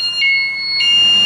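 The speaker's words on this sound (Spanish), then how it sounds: "Podemos ver que hay alarma, la moto sigue encendida," A loud, piercing motorcycle security alarm sounds up close on a Pulsar 200 FI with its engine running, in repeating high-pitched beeps with a steady, pulsing rhythm.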